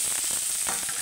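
Onion, green chilli, bay leaf and five-spice seeds hiss and crackle in hot oil, a brief, steady close sizzle with no voices.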